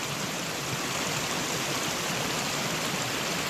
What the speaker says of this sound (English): There's a lot of water here. You can see it coming right out of that pipe.